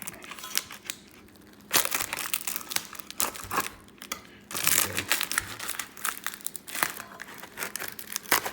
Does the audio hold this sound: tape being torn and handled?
yes